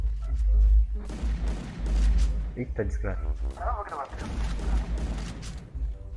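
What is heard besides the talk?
gunshots in the video game Minecraft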